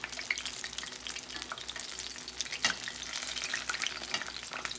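Okra and onion fritters fry in a pan in a home kitchen, giving off a dense, continuous crackling sizzle with scattered bright pops and one louder scrape partway through.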